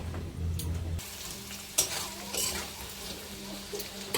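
Potatoes frying in hot oil give a steady, close sizzle with light scraping and clinking of a utensil in the pan, after a brief low hum at the start.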